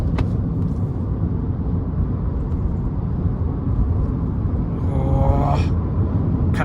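Steady low engine rumble from an Aston Martin car driving along, close and continuous, with a brief higher whine near the end.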